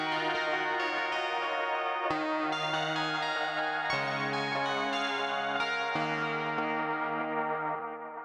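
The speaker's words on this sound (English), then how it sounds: "I love that distortion. It's just really amazing." A Hologram Electronics Chroma Console pedal runs a distortion effect over sustained, harmonically rich chords that change every two seconds or so, holding steady and loud before starting to fade at the end, with no talking.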